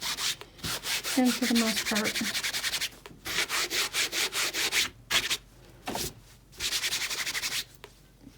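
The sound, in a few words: scrubbing chalk off fabric with a coconut shell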